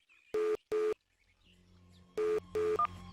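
A telephone number is dialed in a Hyderabadi comedy film. Four clean electronic keypad tones sound in two pairs, with a faint hum between them and a quick higher blip at the end.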